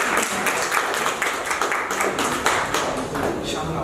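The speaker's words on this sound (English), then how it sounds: "Have a big round of applause for him, please." Applause from the audience at a Google Developers Group Toastmasters meeting in Guwahati, a moderate burst of scattered clapping from a small crowd with some voices mixed in.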